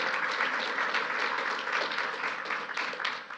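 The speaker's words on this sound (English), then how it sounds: "let's give an applause to all the speakers we've heard thus far" An audience at a TeslaTech conference applauds the speakers, sustained full-room clapping at even strength that tapers slightly at the end.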